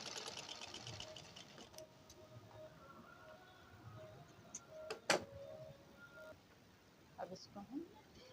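A sewing machine runs a quick burst of stitching along the edges of blouse fabric, then falls quiet apart from scattered light clicks and handling, with a voice in the background.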